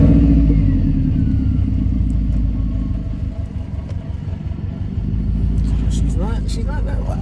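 A warmed-up Subaru WRX engine idles with a steady low rumble, close by and continuous, with a few faint background noises near the end.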